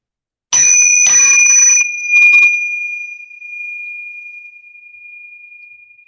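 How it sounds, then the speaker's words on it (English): A meditation chime is struck twice and then tapped lightly, leaving a clear, bright ringing tone that hangs on and slowly fades away toward silence. "if I listen to the beginning of the chime all the way until it disappears"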